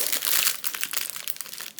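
Crinkly pet food packaging being peeled back by hand, a dense run of close crackling and crumpling that is loudest at first, then breaks into scattered rustles and small crinkles, with no voices.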